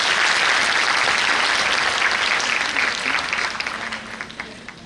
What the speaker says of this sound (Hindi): ताली बजाइए इसके लिए